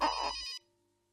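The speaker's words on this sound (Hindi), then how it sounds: "किसका फोन है? पता नहीं किसका फोन।" A telephone rings indoors in a domestic drama scene, a single short burst of electronic ringtone that cuts off abruptly and leaves near silence.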